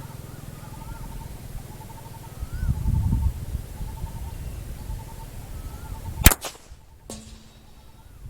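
CZ 455 rifle in .22 LR firing a single shot outdoors at 150 yards on a windy day. One sharp crack stands out over steady wind noise and faint birdsong, then rings away.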